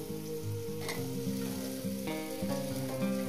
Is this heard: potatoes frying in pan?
yes